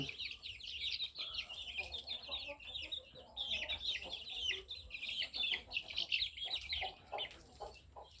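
Young fighting chickens of a good bloodline, a Zombie and Kapu gamecock cross, cluck and chirp in a steady, busy chatter close by, with a faint human voice now and then underneath.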